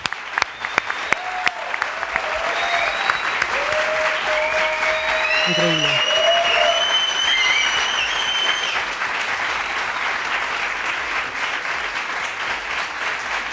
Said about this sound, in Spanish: Nuestro aplauso por estar invitado es para ti